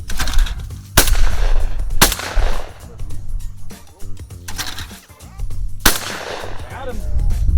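Sharp, loud gunshots ring out at a family farm, about five separate blasts spaced roughly a second apart, each followed by a decaying echo, with faint voices in between.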